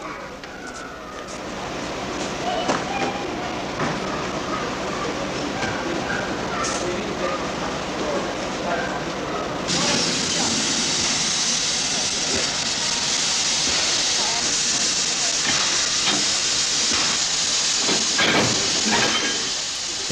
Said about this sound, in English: The Kingston Flyer is an AB class locomotive built in 1925 at Addington in New Zealand.